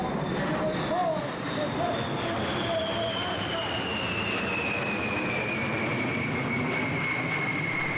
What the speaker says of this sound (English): The middle one is stealth. The one on our side is a swing wing. The one on the far side has 8 engines.